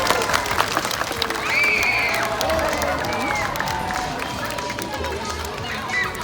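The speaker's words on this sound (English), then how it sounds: "let's give her another big round of applause and welcome her back to the stage" A crowd claps and cheers steadily for several seconds at a sea lion show at the Long Island Aquarium, a dense wash of applause with voices mixed in.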